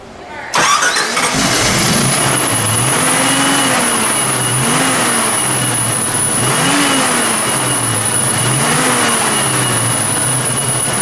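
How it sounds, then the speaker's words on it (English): A 1969 Ford Mustang Mach 1 with a 428 Cobra Jet V8 fires up with a sudden loud catch, then settles into a loud, lumpy idle with several swelling revs repeating at regular intervals, close by, with a high whine and voices in the background. "Let's fire it. We'll let it idle, and Yeah. we'll give it a rev."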